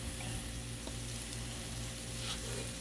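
Tortellini frying in vegetable oil on a Blackstone griddle: a steady, dense sizzle with a constant crackling hiss, close and even throughout, with no one talking.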